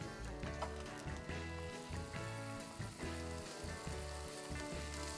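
Ground beef and softened vegetables sizzling in a stir fry pan for ramen, a steady dense frying hiss running throughout, close and fairly quiet with no talking.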